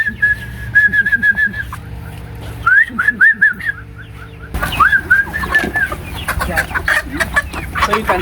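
Month-old chickens on a farm cluck and peep while feeding on Azolla water fern, their calls coming in repeated bursts and chirps, fairly close and clear with no talking.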